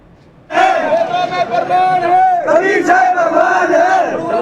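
A large crowd of devotees at a Kabir Jayanti gathering in Sirsa chants a couplet in unison, loud and close, the rhythmic group voices starting abruptly and continuing steadily.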